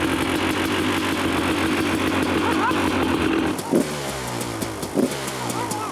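A new motorcycle fitted with a twenty-year-old engine catches quickly and settles into a steady idle, then blips a couple of times; voices talk over the running engine.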